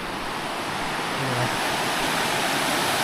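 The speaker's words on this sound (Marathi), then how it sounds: "नदी बघा केवढी मोठी झाली आता पाण्यामुळे" A swollen river in the Sahyadri hills near Prachitgad runs high after monsoon rain, a loud, continuous rushing roar of churning water that stays even throughout, with no talking.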